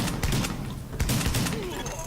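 Rapid bursts of AA-12 automatic shotgun fire in the video game The Division, a dense fusillade of close, loud blasts with a voice talking over the shots.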